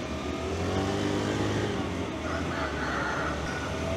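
A SYM Shark 50cc scooter engine accelerates on a road in Ho Chi Minh City, a close, steady buzzing drone rising slightly in pitch over a constant rush of traffic.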